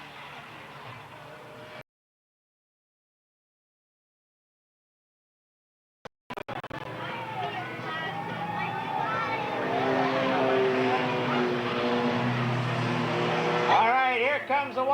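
Race cars lapping at Eugene Speedway, engines roaring loud and steady as they circle, with a crowd-and-track wash and an announcer talking over it after a brief silent gap.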